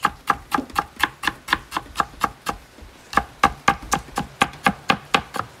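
Knife slicing fresh ginger into slivers on a cutting board, about two dozen crisp, evenly spaced chops at a quick steady pace, close and clear with a brief pause midway.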